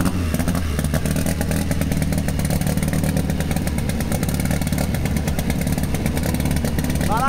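A naturally aspirated air-cooled 2.5 VW Beetle engine at a drag racing event, loud, continuous rough engine roar with clattering pulses throughout, heard up close.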